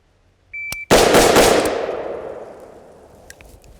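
A single loud rifle shot fires during a shooting drill, with a sharp crack followed by a long decaying outdoor echo. A brief electronic beep from a shot timer comes just before the shot.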